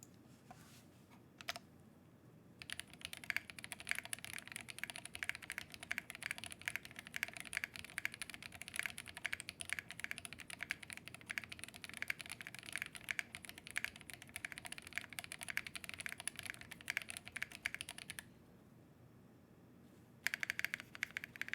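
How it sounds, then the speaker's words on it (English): Typing on a Finalkey V81 Plus mechanical keyboard with no foam, a PC plate, lubed switches and GMK keycaps: a steady, fast run of close, soft clacks with brief pauses before and after. "this is the Finalkey V81 Plus, no foam at all, PC plate, pine lube switches, GMK keycap set."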